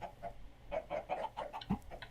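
Short bursts of clucking from several Minecraft chickens in a sky-island survival world, irregular and overlapping with one lower squawk near the end, fairly faint and close with no talking.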